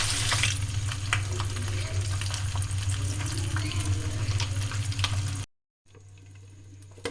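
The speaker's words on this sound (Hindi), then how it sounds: "और इसको हल्के हल्के से फ्राई करके कलर दे लेंगे" Mutton pieces frying in a pan for a steam roast, a close, busy sizzle with stirring scrapes and a low rumble, briefly cutting out near the end before the frying resumes more quietly.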